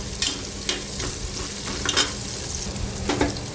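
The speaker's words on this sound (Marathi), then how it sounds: "आता उभा चिरलेला कांदा जो आहे तो घालायचा आहे आणि कांदाही व्यवस्थित परतून घ्यायचा आपल्याला" Sliced onion sautéing in a pan for a veg pulao, a steady close sizzle with occasional stirring scrapes and spoon clicks, no voices.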